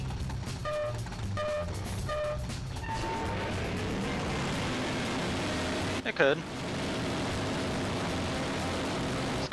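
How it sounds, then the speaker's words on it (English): A car engine in the racing game Pac-Man World Rally drones steadily and fairly loudly beneath game chimes and a commentator's voice. "This car's kind of loud too, I guess, if I'm going to point it out"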